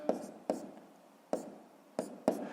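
Pen or pencil taps and scratches on paper while numbers are jotted down for a school multiplication sum, five short sharp strokes at uneven intervals against near silence.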